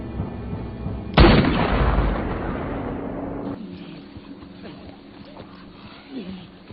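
A single loud gunshot in a western film scene, a sharp blast followed by a lingering decay, with narration and background score around it.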